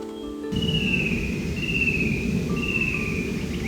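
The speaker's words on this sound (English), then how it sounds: "That's the call of a fan-tailed cuckoo." Fan-tailed cuckoo calling from dense bush at Enoggera Reservoir, Brisbane: a few clear, high descending whistled trills repeated at a steady pace over constant broadband background hiss.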